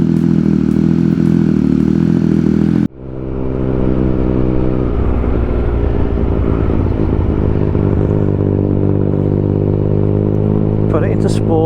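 A Triumph Speed Triple RS motorcycle fitted with an Austin Racing exhaust roars loudly up close. It then cuts abruptly to a deep, steady, throbbing idle that lasts to the end.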